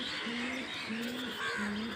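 A male Phulshira pigeon gives three drawn-out, steady cooing calls close by, evenly spaced over a soft background hiss.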